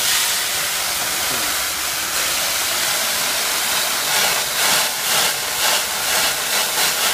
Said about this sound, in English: You want to rinse off the emulsion from the letter.